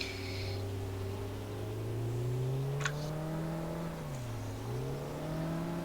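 A drift car engine in the Assetto Corsa sim, driven on ice, hums at a steady idle-like drone that rises and dips in pitch as the throttle shifts, fairly quiet and alone, with a brief click midway.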